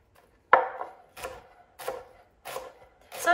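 A knife chops vegetables on a cutting board for an Italian-style salad of oranges, fennel, endive, radicchio and romaine. Five crisp, separate chops come about half a second apart, close and clear, with no talking.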